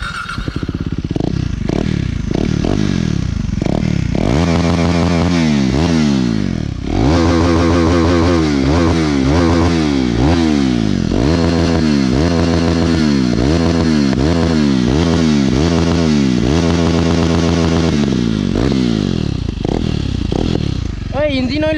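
A KTM Duke 390 motorcycle engine idles and revs repeatedly, its loud rising-and-falling pitch sweeps running nearly nonstop, close up, with a rough clattery edge; the bike has an engine oil leak from the head.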